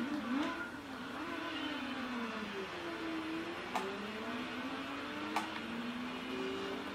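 Mazda RX-8 race car engine at Fuji Speedway in Gran Turismo 4, a faint, steady whine whose pitch rises and falls through gear changes, with a couple of sharp ticks and no voices.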